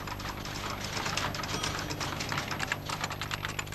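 Rapid, steady key clicks from typing on an early office word processor keyboard, close and continuous over a constant electrical hum.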